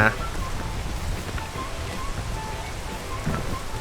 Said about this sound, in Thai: อุ้ยฝนตกฮะฝนดีเลย